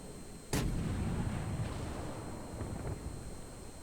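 A single sharp boom of warship artillery in World of Warships, followed by a low rumbling tail under steady wind-like background noise.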